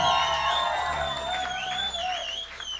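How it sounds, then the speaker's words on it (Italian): Live-show audience at the Lab welcomes a band with cheering, whoops and scattered applause, a dense crowd roar sustained throughout at close range. "Facciamo un applauso."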